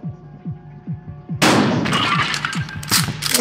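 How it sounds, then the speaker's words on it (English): A single loud shotgun blast from the video game Buckshot Roulette, breaking in sharply after a steady low rhythmic pulse of game music and fading into a long rumbling tail. "I'm gonna shoot him."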